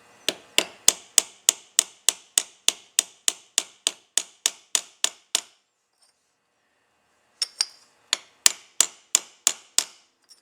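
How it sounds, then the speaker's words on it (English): Rivet being tapped into the plate of a Carter 4464S carburetor from a 1966 Ford GT350, a close rapid run of about twenty sharp metallic hammer taps, a short pause, then another quick run of taps. "You want to drive that so that the head of the rivet comes through about 1/16 of an inch."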